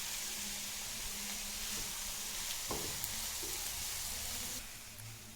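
Onions being sautéed in a pan until translucent: a steady, soft sizzle runs throughout, with a brief scrape of stirring midway and the hiss dropping slightly near the end.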